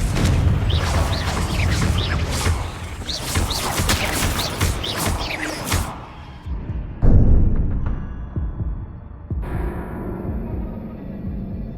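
A fiery Confringo spell blast in the Hogwarts Legacy video game erupts in a series of loud booming impacts and crackling crashes, followed by a rumbling aftermath and a sudden second burst.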